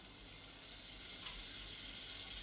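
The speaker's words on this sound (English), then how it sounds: "The butter's in there. It's melting away nicely." Butter melting in a pan gives a steady, faint sizzle and hiss that runs evenly throughout, with no talking.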